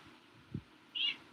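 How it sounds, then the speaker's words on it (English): A pet cat meows once, a short fairly faint call near the end, with a dull low thump shortly before and no talking. "That's my cat."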